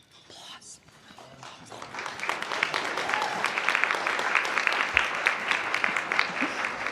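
Audience applause at a Canadian Club tech outlook luncheon, starting faint with a brief murmur and building within two seconds into steady, dense clapping that continues to the end.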